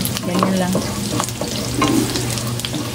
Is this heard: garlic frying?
yes